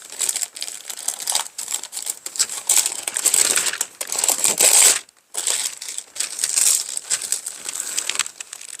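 A paper sewing pattern for a long shirt or shirt-style coat is folded and handled, giving loud, close, continuous crinkling and rustling with one brief pause partway through.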